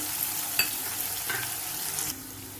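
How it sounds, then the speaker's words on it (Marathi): Boiled peanuts roasting in hot oil give a steady soft sizzle, with a few brief stirring scrapes before the sound drops away near the end. "थोडा वेळ ते परत तेलामध्ये छान असे शिजू देते"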